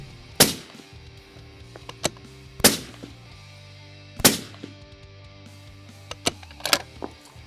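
A rifle fires shots for a muzzle velocity check while calibrating for 1,000-yard shooting, with three loud, sharp reports spaced about two seconds apart and fainter clicks and knocks between them.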